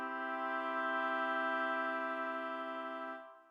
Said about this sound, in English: But a major chord, we know what this sounds like.